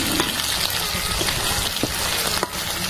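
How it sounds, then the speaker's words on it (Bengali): Chicken pieces fry lightly in a pan with a steady close sizzle and soft bubbling hiss, broken by a few faint clicks of a utensil, with no one talking. "এক এক করে সব চিকেনগুলো এইরকম করে ভেজে নেব।"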